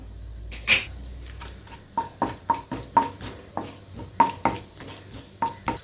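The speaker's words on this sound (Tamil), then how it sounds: "இப்போ எண்ணெய் சூடாகிட்டு நான் கொஞ்சம் பட்டை எடுத்திருக்கேன் பட்டையில் சேர்த்துருவோம்" Cinnamon, cloves and cardamom crackle in hot oil under a faint sizzle, broken up by a run of sharp, evenly spaced spoon taps and scrapes against the pan.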